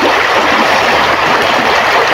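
A swollen, widened river rushes by close and loud, a dense unbroken roar of flowing water filling the whole short stretch with no voices.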